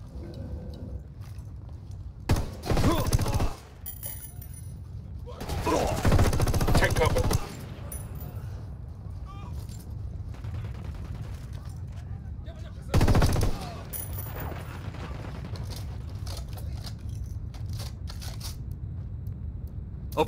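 Gunfire in Ghost Recon Wildlands rings out in several sharp bursts, some sustained like machine-gun fire, over continuous background noise with voices speaking between volleys.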